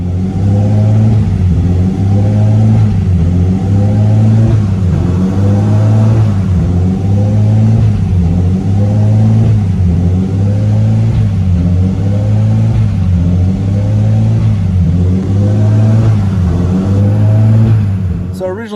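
A Nissan R34 Skyline engine that is running poorly with a suspected idle control valve fault idles with a loud, close, low rumble that swells and dips in a steady repeating hunting rhythm.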